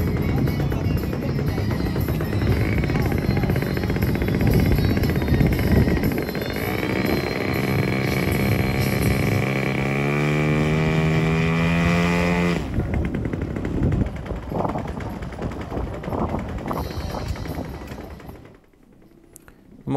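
A small RC model airplane engine at a model aircraft festival at Hezarfen airfield is hand-started and runs, its buzzing whine revving and shifting pitch, then cutting out near the end while people talk faintly nearby.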